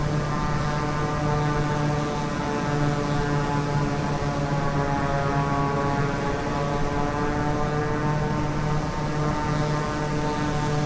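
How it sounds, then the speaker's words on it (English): Steady, droning hum of a propeller aircraft engine in the Microsoft Flight Simulator game, continuous and loud with a constant tone throughout and no voices. "My aircraft's noisy."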